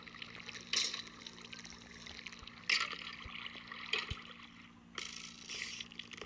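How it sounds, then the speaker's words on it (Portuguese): Water trickles and splashes steadily inside a Minecraft ravine, a faint continuous flow broken by a few sharper splash bursts, with quiet game sounds underneath. "É ali que tá saindo água."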